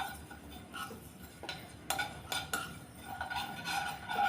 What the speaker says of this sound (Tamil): சும்மா கருக்க விட்டுறாமல் எள்ளு நல்லா வெடிக்க ஆரம்பித்தோடனே இதை எடுத்து தனியாக வச்சிடலாம்.